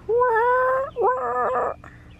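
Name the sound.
young rooster trying to crow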